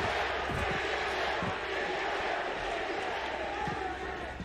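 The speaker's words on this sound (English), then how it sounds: "The roar of the crowd behind them." An esports arena crowd at a VALORANT Champions match between Edward Gaming and Giants roars in a loud, continuous surge of cheering voices, fading slightly toward the end.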